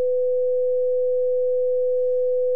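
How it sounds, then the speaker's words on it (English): A continuous 501 Hz pure sine tone from a physics demonstration of beat notes sounds as a single steady, unwavering pitch at constant level from start to finish, alone. "And now I'll play the 501 Hz signal."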